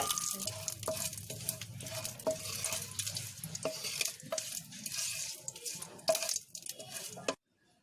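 Dried red chillies and curry leaves frying in hot oil while being stirred for a dosa chutney tempering, a loud close sizzle with scraping strokes that stops abruptly.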